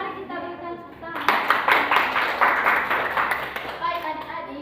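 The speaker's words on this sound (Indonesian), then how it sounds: "mari kita berikan tepuk tangan" Children in a classroom clap together in a lively burst of applause that carries on steadily, with young voices mixed in.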